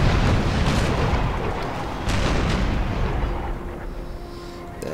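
Cannon fire in a naval battle within a video game, heavy booming blasts that roll into one another with long rumbling decays, loud and fading slightly toward the end.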